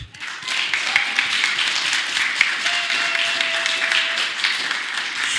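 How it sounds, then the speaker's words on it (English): A crowd at a Transgender Day of Visibility gathering applauds steadily and loudly, dense hand-clapping sustained for several seconds without talk. "Let's just give ourselves a round of applause for being intentional about coming here"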